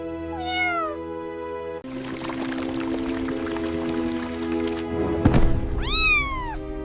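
A kitten in an animated children's story meows twice, one short meow at the start and a longer rising-falling meow near the end, with a steady rushing, pouring noise and a soft thump in between.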